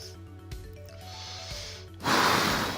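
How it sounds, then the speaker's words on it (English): Music with a steady beat plays, then cuts off as a sudden, harsh burst of coughing breaks in up close. "you probably heard the music stop there when I started to cough"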